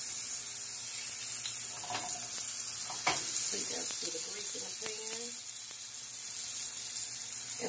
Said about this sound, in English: we are getting ready now to bring them over and put them in the pan.